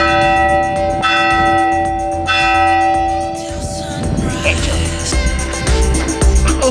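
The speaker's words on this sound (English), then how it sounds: "if you get up here, you gotta ring the bell 3 times" A church bell rings on Dragonstone island, the Game of Thrones filming site in the Basque Country of Spain, its strokes leaving long sustained tones that hang in the air before fading into outdoor noise and movement.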